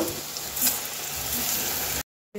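Potatoes and Gobindobhog rice fry in a pan with spices, giving off a soft, steady sizzle up close before a short break of silence.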